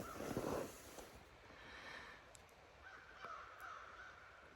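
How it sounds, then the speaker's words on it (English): Crows cawing in the morning woods along the Appalachian Trail, one loud harsh caw up close at the start, then fainter calls farther off against quiet forest air. "There's lots of crows and woodpeckers out this morning."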